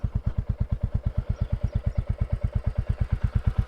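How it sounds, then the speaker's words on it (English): A Royal Enfield Classic 350 motorcycle idling nearby, its single-cylinder engine thumping in a steady, even rhythm of about nine beats per second with a light mechanical clatter on top. "this is the Classic 350 from Royal Enfield"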